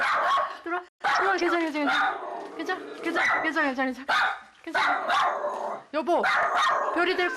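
A schnauzer barks and yips insistently at students arriving for a sewing class at home, its sharp, repeated barks close and loud and overlapping with a voice trying to calm it.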